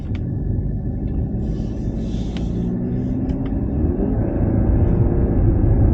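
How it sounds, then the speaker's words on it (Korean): A Mercedes C300 AMG Line's engine rises in a steady, loud rumble during a forced manual downshift under sporty driving, the revs climbing smoothly from inside the cabin with no talk. "강제로 지금 이제 시프트 다운 해봤고요"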